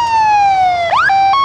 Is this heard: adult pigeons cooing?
no